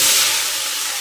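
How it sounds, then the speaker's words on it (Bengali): Vegetables for khichuri frying in hot oil with cumin seeds and bay leaf: a steady, loud broadband sizzle close by, holding level throughout the short stretch with no voices. "খিচুড়ির সবজিটা এবার এর মধ্যে ভেজে নেব"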